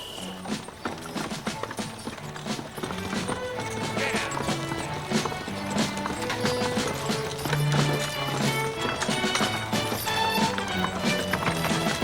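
Racehorses waiting in the dark before a race make continuous clip-clopping hoofbeats, with tonal sounds running alongside them.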